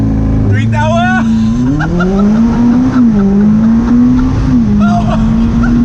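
A 2019 McLaren 600LT engine revs high, then roars as the car launches hard on launch control, the pitch climbing through gears, loud and close from inside the cabin.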